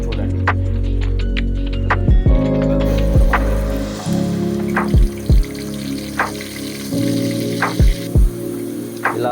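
Tempering seeds and onion paste frying in hot oil for a Telugu drumstick curry. A steady sizzle and hum runs throughout, broken by several sharp clinks and pops, with no talking.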